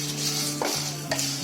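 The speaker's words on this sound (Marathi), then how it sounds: "हे आपल्याला सगळं आहे ना भाजून घ्यायचं आहे." Whole spices (pepper, fennel, coriander, cumin, dry red chilli and fenugreek seeds) are dry-roasted in a pan, giving a soft steady hiss with a couple of short scraping strokes.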